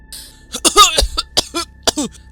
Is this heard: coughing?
yes